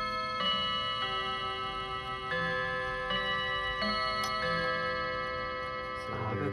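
An antique mantel clock chimes a quarter-hour tune indoors. A sequence of clear, sustained bell tones rings out one after another with long ringing decays, over a faint steady ticking, and no voices.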